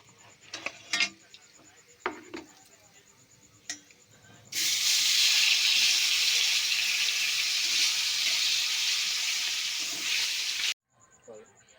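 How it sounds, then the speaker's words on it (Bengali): Shol (snakehead) fish fries in hot oil, first with light clinks and faint background sounds, then a loud, steady sizzle and hiss erupts and holds for about six seconds before cutting off abruptly. "আর যে মাছগুলো আছে এরকমভাবেই সব ভেজে নেব,"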